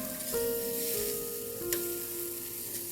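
Paneer pieces frying in a pan for dhaba-style paneer masala, a soft steady sizzle with a faint single clink partway through and a thin tonal hum in the background, no voices.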